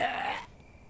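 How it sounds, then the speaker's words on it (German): A single brief cough from a player during German-language gameplay of Kingdom: New Lands, a short harsh burst up close that cuts off quickly into quiet background. "hier habe ich wieder gehustet"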